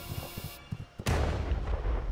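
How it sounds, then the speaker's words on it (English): A gunshot in the video game Night in the Woods, a sudden loud blast that cuts in after a stretch of quieter game sounds and leaves a rumbling, sustained boom. "I heard a gunshot."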